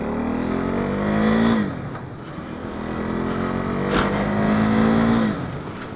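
A KTM Duke 390 single-cylinder engine revs up and drops as gears shift, two rising whines cutting off at each change, loud and close from the rider's position with wind noise.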